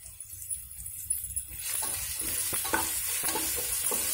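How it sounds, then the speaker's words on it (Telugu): Mint leaves drop into hot oil tempering for coconut rice, and a quiet start swells into a loud, steady sizzle with crackles as they hit the pan, heard close. "కొంచెం టేస్ట్కి పుదీనా కొంచెం పోపులో కూడా వేద్దాం"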